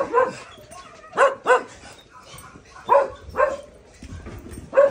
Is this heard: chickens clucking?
no